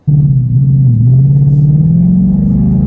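Ford Mustang GT with a Wind Booster module set to race mode, its engine droning loud and steady close by, pitch dipping briefly and then climbing smoothly as it accelerates, with no talk over it.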